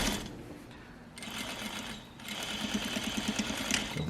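A sewing machine runs steadily, stitching around fabric, with a fast mechanical chatter that stops briefly near the one- and two-second marks before running on. No voices.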